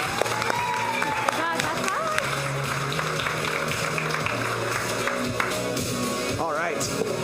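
A crowd at a comedy showdown applauds steadily throughout, a dense wash of clapping with some cheering, mixed with voices and loud sound over the top.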